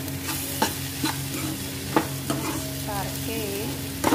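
Turmeric tadka frying in a pan for paneer bhurji, stirred with a utensil: a steady close sizzle under repeated sharp scraping clicks and knocks of the spoon against the pan, with no talking.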